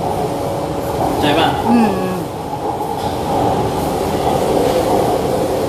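A train runs with a continuous loud rumble and rail clatter throughout, while people speak briefly over the noise.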